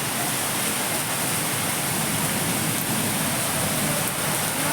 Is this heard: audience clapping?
no